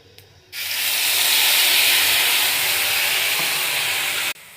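Water poured into mustard paste in a hot pan of begun sorshe bata, cooked with dried chilli and panch phoron, gives a loud, steady hiss. The hiss starts abruptly, holds evenly for nearly four seconds, then stops sharply.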